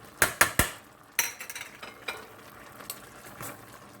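A spoon stirring pinto beans with a smoked turkey leg in a pot, a few sharp metallic clinks against the pot followed by softer scraping and light taps, close up.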